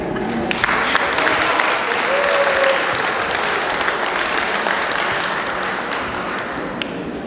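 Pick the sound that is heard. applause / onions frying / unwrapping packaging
applause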